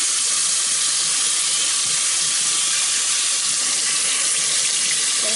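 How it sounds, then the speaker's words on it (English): Running water from a tap or detachable shower head rinsing through a child's natural twisted hair, a loud, steady hissing stream that continues unbroken from start to finish. "Making sure I completely saturate the hair with water, again, to make sure the hair is softened before I unravel the twist."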